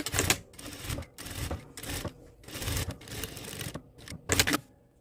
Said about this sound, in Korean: 이제 트임 위쪽 부분 박음질 할게요.